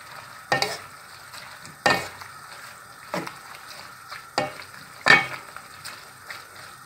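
Tagliatelle with mussels and prawns being stirred in a hot pan, five or six distinct scraping strokes spaced a second or so apart over a soft continuous sizzle, close and without voices.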